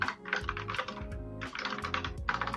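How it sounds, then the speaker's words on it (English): Aggressive typing on a computer keyboard during a heads-up poker match, with fast bursts of loud, clattering keystrokes separated by brief pauses and no talking. "Aggressive typing from Loncar here."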